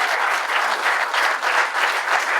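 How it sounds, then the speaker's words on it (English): Applause from a crowd at the USADGC disc golf championship final, a dense, steady wash of clapping that stays loud throughout without any voices over it. "So big round of applause for those two."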